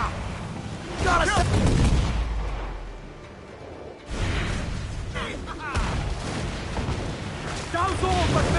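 Ship cannons firing in the naval game Assassin's Creed Black Flag, heavy booming blasts that roll out at sea, with crew voices shouting over the loud bursts.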